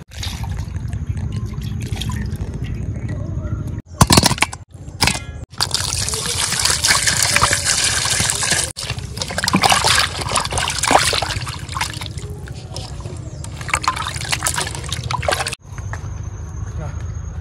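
Water is poured and splashed over cut fish pieces being washed, gushing and trickling in uneven bursts close by, with people talking over much of it.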